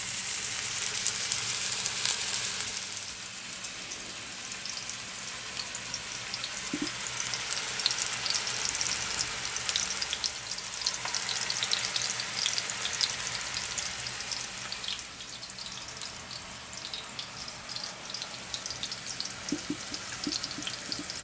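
Persian meatball patties (kofteh) of flattened ground meat frying in a pan, a loud, continuous crackling sizzle with no talking.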